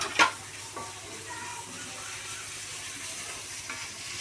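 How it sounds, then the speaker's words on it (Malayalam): Ginger and garlic sautéing in a pan while a beef fry is being cooked, with a soft, steady sizzle and a few faint clinks and stirring scrapes, no talking. "അതും കൂടി ഇട്ട് നമുക്ക് നല്ലോണം ഒന്ന് വഴറ്റി കൊടുക്കാം"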